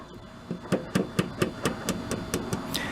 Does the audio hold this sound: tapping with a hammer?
yes